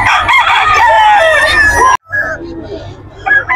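Rooster crowing at a cockfight with sweater and Gilmore game fowl, one loud close drawn-out crow followed by a sudden cut and then quieter clucks and calls amid background noise.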